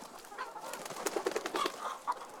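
Guinea fowl, ducks, quails and chickens on a farm make soft clucking and chattering calls, faint and mixed together in a busy background.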